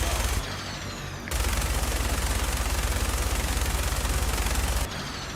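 A mounted cannon fires in the Fallout 4 video game, loud rapid repeated bursts forming a dense continuous barrage that runs for several seconds, with short pauses before and after.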